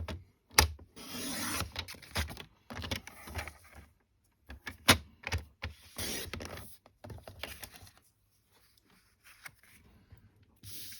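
White card for a gift pouch is cut by hand in a series of short scraping and rubbing strokes with pauses between them, close by and moderately loud.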